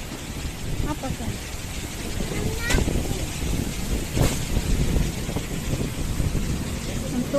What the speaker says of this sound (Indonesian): Untuk area Momere sekarang lagi hujan, angin kencang, disertai dengan gelap ya, gelap sekali dan anginnya sangat kencang.